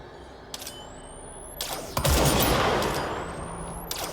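A gunshot headshot in the video game Control lands as a sharp, loud crack that rings out and decays, followed by a sustained rumble, with fainter clicks and whooshing sweeps around it.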